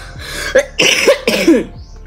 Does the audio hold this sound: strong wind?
no